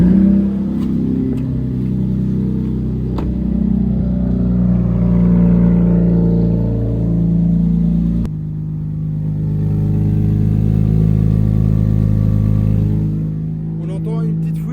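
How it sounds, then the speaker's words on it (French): A car engine idles steadily with a low, continuous rumble, briefly shifting in tone partway through, with a small leak audible and faint talking over it. "On démarre la voiture."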